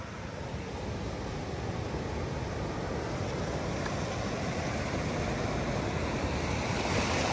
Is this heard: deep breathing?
no